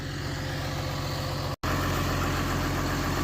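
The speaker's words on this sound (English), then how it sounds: "Winching trees off this bluff" A winch engine pulling White Oak trees up a steep bluff, a loud steady motor drone running close by with one very brief dropout, no talking.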